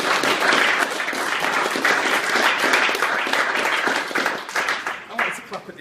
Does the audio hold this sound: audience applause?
yes